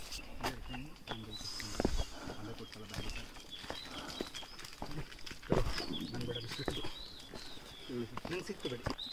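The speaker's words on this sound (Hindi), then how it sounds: "चिड़ियों का आवाज आ रहा है" Wings flap and birds call among dense forest sounds on the Kumara Parvatha trek while a person talks over them.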